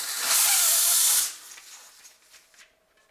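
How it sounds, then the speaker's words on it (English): A loud, steady hiss of air from a compressor inflating a bike tire on a Niner WFO 9 RDO build, holding strong for about a second before cutting off, leaving faint rustles and light handling noises. "we have an air compressor"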